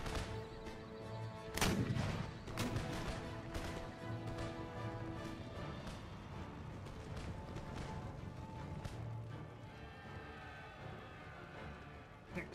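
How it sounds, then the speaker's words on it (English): Canister shot artillery fire in the video game Empire Total War, a series of heavy cannon booms and sharp cracks over a rumbling battlefield din, one loud blast early followed by repeated scattered shots, with no talking. "Just attack ground with your canister shot again."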